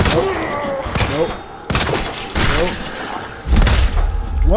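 Gunfire from Resident Evil 2 Remake, with bursts of shots and thuds over several seconds mixed with game noise and a voice.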